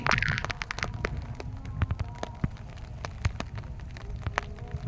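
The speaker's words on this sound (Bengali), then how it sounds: "আজ বৃষ্টি হচ্ছে খুব এখানে কখনো কখনো বৃষ্টি বেড়ে যাচ্ছে আবার কখনো কমছে" Heavy rain pours steadily at an outdoor coal unloading area by a power station pipeline, a dense continuous hiss broken by scattered sharp drops and patters, with no talking.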